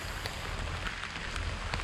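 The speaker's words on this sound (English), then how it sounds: "it's quite serene to hear the sound of the rain" Rain falls steadily on Kannamangala Lake, a soft continuous hiss and patter of drops striking the water, even and unbroken throughout with no voices.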